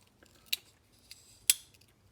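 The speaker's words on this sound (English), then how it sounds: "See the click? Hear the click?" A Leatherman Surge multi-tool blade snapping into its lock, two sharp, close metallic clicks about a second apart with a fainter tick between them, set against a quiet background.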